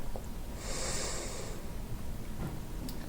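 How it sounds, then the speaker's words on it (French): A person draws in a slow, deep breath through the nose, a soft airy inhalation lasting about a second over quiet background noise. "Prends une grande respiration par le nez en gonflant ton ventre comme un ballon."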